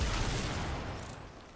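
An explosion in the video game Void Sabotage, heard as a loud, broad burst that rumbles and slowly fades over about a second and a half, with no voices.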